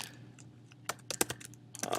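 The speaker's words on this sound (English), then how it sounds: "just make sure I'm typing this right." Quick, uneven keystrokes on a computer keyboard while entering MATLAB code, close clicky taps that come in short clusters with brief pauses between.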